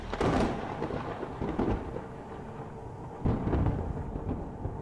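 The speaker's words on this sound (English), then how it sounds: "Whoa, that lightning trips me out." Thunder rumbling during a lightning storm in the VR survival horror game Reficul, several deep booming cracks at the start and near the end with lower rolling rumble between, loud and without speech.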